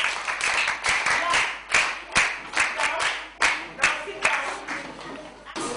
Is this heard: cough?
no